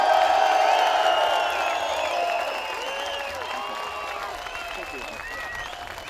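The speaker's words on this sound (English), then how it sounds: "So I think we're going to give an enormous round of applause for Mr." A gathered crowd applauds and cheers for David Icke at the Bilderberg 2013 event, with dense clapping, whoops and voices that start loud and ease off slightly over several seconds.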